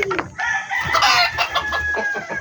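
Backyard chickens cluck and a rooster crows nearby, the calls overlapping in a busy, loud chorus.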